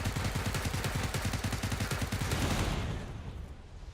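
Rapid automatic gunfire in a video game, a fast regular burst of loud close shots that fades out near the end.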